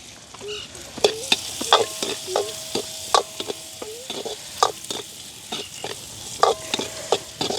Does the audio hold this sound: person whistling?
no